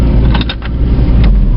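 A 1970 Ford Mustang Mach 1 engine with low compression on adjacent cylinders idles in park at about 800 rpm, a loud, close, steady low rumble with a few brief mechanical clicks.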